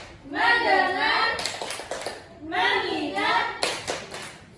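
A Year 4 primary class chants as a group, broken up by short sets of rhythmic unison clapping, a patterned focus clap that sounds close and energetic.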